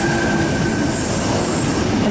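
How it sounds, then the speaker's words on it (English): A Sydney Bondi Junction train passes platform 3 at Tempe station with a loud, steady rail roar, clattering wheels and a thin, high wheel squeal throughout. "Bondi Junction service passing platform 3"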